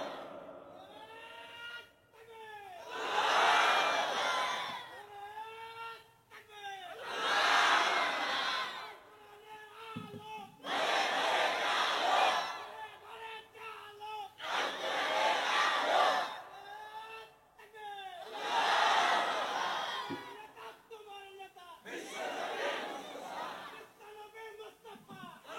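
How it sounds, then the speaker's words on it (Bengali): At a religious sermon gathering, a large crowd roars the takbir, Allahu Akbar, in unison. The loud, full shouts come about six times, each answering a single man's call between them. "তাকবীরটা সুন্দর না?"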